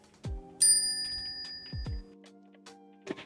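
Bright bicycle-style bell sound effect for a subscribe reminder: a few crisp metallic dings with ringing tails, alone and close, followed by a short final ting.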